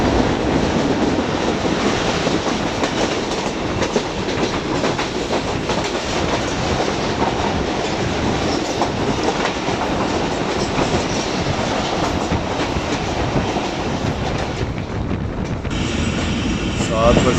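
A Shalimar Express passenger train passes close by, with a loud, continuous rumble and rapid clickety-clack of wheels on rails that holds steady for the whole stretch.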